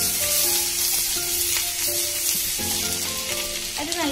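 Ginger and garlic sizzle steadily in hot oil left over from deep-frying a chilli snack, a dense, loud crackling hiss that holds throughout with a few faint clinks.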